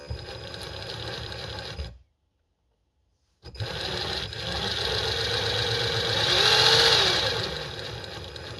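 A homemade RC car differential spins under heavy throttle, giving a loud, steady mechanical whine and grinding rattle that cuts out briefly, then returns and rises in pitch before easing.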